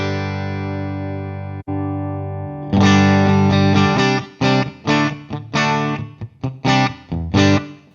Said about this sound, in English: You can hear a bit of room reverb on that one.